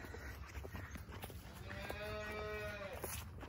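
A dairy cow on a farm gives a drawn-out, wavering moo lasting over a second, close and clear, after some faint scuffling and background noise; no one speaks.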